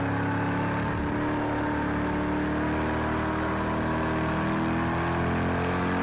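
Race car engine in Project Cars 2 on PS4, a steady continuous drone with layered harmonic tones and shifting pitch as the car brakes and eases back onto the throttle, no voices.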